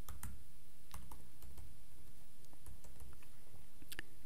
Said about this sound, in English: type in 2 backslashes, and make sure it is in all caps